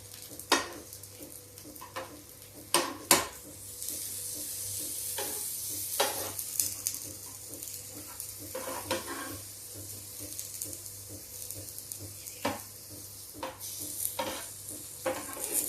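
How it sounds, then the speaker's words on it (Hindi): Potato and eggplant pakoras fry in a small amount of oil, giving a soft, steady sizzle broken by repeated scraping and tapping of a spatula against the pan. "बहुत कम तेल के इस्तेमाल में ये पकौड़ियाँ बन जाएंगी।"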